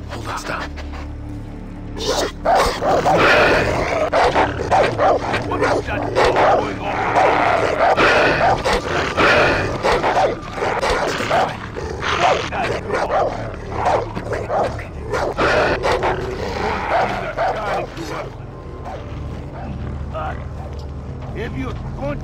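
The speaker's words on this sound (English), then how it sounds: "dogs" Dogs bark, yip and whimper in Far Cry 3, sharp and close, repeating in busy bursts over steady game noise, with talk running alongside.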